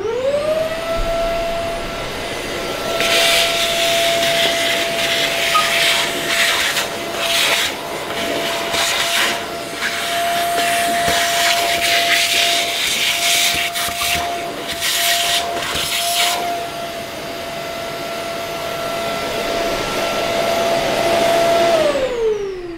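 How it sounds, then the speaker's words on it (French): A vacuum cleaner cleaning inside a car's air filter box: a loud motor whine spins up, holds steady with rough sucking and rattling as the nozzle scrapes around, then winds down at the end. "je vais vite fait passer un coup d'aspi"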